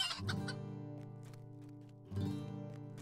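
Chickens clucking in the Lord of the Rings Online video game, a few close, repeated clucks in two bursts over a steady, tonal game-music backdrop, with no talk.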